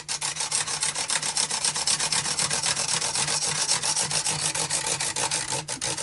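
Fret ends on an Epiphone Les Paul guitar are filed and sanded up close: rapid, even back-and-forth rasping strokes repeat continuously with a steady rhythm.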